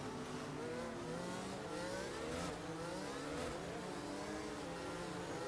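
Several race cars accelerate in F1 22 at the Saudi Arabia circuit, engines rising together in pitch as they build speed, a dense continuous high-revving drone with no pauses.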